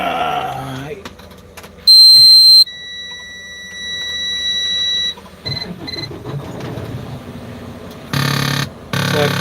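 An electronic keypad buzzer in a truck sounds after a code is punched in, with short tonal beeps and a longer steady buzz alternating with quiet gaps, fairly loud and close.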